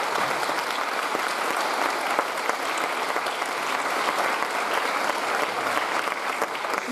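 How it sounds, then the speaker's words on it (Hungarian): Audience at a ballet school gala applauding, a thick, continuous roar of many hands clapping at an even, full level from start to finish. "szeretnék egy tapsot kérni"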